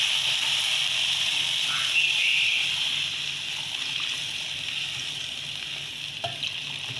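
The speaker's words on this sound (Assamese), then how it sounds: "এতিয়া মই ইয়াতে পানী দিম।" Water poured into a cooking pan of boiled taro for a fish curry, a steady close hiss and bubbling sizzle that runs loudly at first, then settles lower, with a couple of light clinks.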